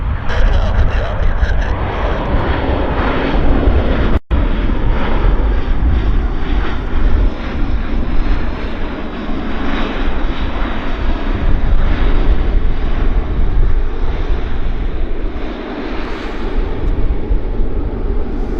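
A heavy airliner coming in to land at Vancouver airport roars loudly and continuously with a deep rumbling engine drone, broken by one sharp click near the start.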